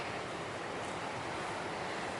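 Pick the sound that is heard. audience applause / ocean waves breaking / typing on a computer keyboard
ocean waves breaking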